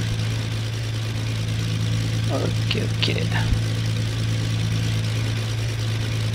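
Warm aircraft engine idling steadily in a flight simulator cockpit at Bordeaux-Mérignac, a continuous low hum with a brief spoken remark over it.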